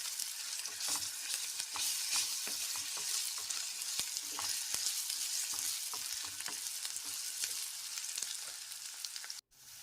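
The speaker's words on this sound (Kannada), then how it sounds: "ಶುಂಠಿ ಬೆಳ್ಳುಳ್ಳಿ ಪೇಸ್ಟ್ ಹಸಿ ವಾಸನೆ ಹೋಗೋ ತನಕ ಎಣ್ಣೆಯಲ್ಲೇ ಇದನ್ನು ಹುರ್ಕೋಬೇಕು" Ginger garlic paste fries in hot oil while being stirred, a close, steady sizzle broken by sharp crackles and spoon scrapes, running alone without voices before a brief drop near the end.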